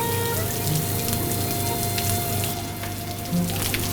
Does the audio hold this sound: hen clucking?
no